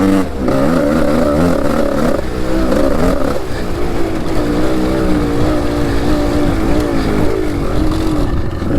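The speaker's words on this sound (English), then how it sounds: "So this bike is a 1998 KX500, and the guy had it all these years." A 1998 Kawasaki KX500 two-stroke dirt bike engine revs loud and close, its pitch rising and falling through several throttle blips over a steady idle.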